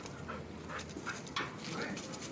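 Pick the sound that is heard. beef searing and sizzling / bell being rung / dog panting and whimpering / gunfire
dog panting and whimpering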